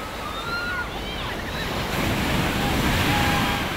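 Ocean surf breaking steadily on a beach where people swim and play in the waves, a continuous wash of water with faint distant voices and calls over it.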